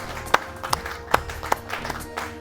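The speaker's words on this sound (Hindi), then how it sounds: "एक बार जोरदार ताली सभी कवित्रियों के लिए" A few scattered, sharp claps from a poetry-reading audience at a Holi-themed kavi sammelan, spaced irregularly and fairly close, over a low room murmur.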